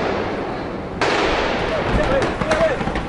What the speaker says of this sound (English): we are hearing some heavy gunfire